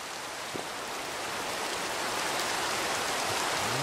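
Rain falls in the Minecraft video game, a continuous soft, even hiss with no other sounds.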